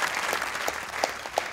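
A studio audience at a cricket talk show breaks into a short burst of steady, close applause.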